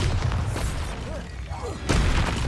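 Bombarda exploding spell blasts in Hogwarts Legacy, a loud booming burst at the start, a quieter dip with faint whooshing tones, then a second heavy blast near the end.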